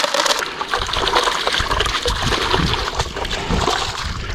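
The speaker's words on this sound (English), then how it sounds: "So I'm just rinsing out the overfeed." Water rushes and splashes steadily as the overfeed of a gold sluice is rinsed out in an Irish river, a loud, dense, continuous wash heard close up.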